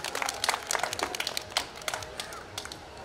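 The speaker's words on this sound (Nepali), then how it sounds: "नभए यहाँले ताली लगाइदिनु होला" Hands clap in scattered, uneven bursts as an audience applauds at a cooperative savings and credit society's annual general meeting, fairly close and continuous for a few seconds.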